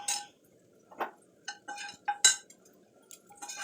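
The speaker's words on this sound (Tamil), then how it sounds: "இதை தூக்கி அதில் கொட்டி அடுப்பை பற்ற வச்சு விட்றலாம்." Metal cookware clinks and scrapes as sautéed vegetables are tipped into a pot on a home stove while cooking peerkangai kootu. Sharp, close clatters come in scattered bursts with quiet gaps between them.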